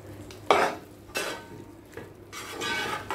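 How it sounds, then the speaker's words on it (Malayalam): Half a cup of thick coconut milk poured into chicken pulao and stirred in a pot: a few bursts of sloshing and sizzling with utensil scrapes and light clinks, close by and without voices. "നമുക്കിതിലേക്ക് 1/2 കപ്പ് തേങ്ങാപ്പാൽ ഒഴിച്ചു കൊടുക്കാം."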